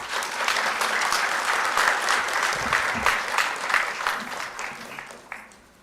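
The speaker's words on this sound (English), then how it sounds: "please welcome Mrs. Kirandeep Sandhu with a round of applause." Audience applause at a book launch event, a sustained round of clapping from a seated crowd that holds steady for several seconds and then fades out.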